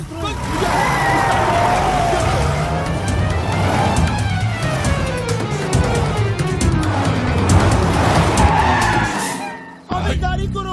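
A car in a Hindi comedy scene roars loudly with skidding tires and rising, falling engine sweeps throughout, then cuts off abruptly near the end as voices come in.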